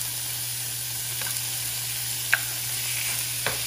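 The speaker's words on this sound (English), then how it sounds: "I'm just gonna put the meat in here. I don't need to put any oil in here" Raw meat dropped into a hot, dry frying pan with no oil sizzles steadily at close range, with a few brief clicks and pops standing out over the constant hiss.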